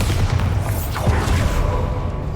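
A Bombarda spell detonates in Hogwarts Legacy, a dense low booming blast that rolls on steadily through the whole moment, with a brief swell of debris and crackle midway.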